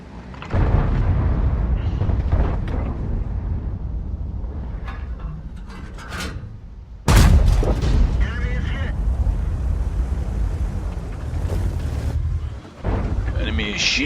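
Heavy gunfire from a Type 5 Heavy tank in World of Tanks: a loud booming blast near the middle, then a continuous rumbling battle din of explosions that runs through the whole stretch.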